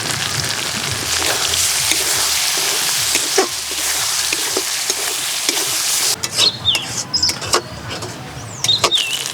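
Tomato cooked down with garlic, ginger, coriander, cumin and chilli pastes sizzles in oil as it is sautéed, with constant stirring scrapes. The frying is loud at first and turns sparser and patchier toward the end.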